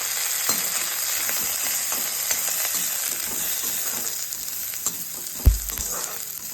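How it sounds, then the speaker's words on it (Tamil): Grated coconut fries in a pan with curry leaves and ginger for a pirandai thuvaiyal, a constant close sizzle and hiss with occasional faint stirring and a sharp knock near the end. "தேங்காய் போட்டு வடச்சிட்டு அரைச்சா நல்லா வாசனையாக இருக்கும்"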